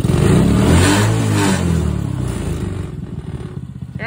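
An X-Pro Rover 125cc go kart engine revs at half throttle, a loud, close, rising mechanical drone that holds and then eases back into a rough, pulsing idle with some clatter.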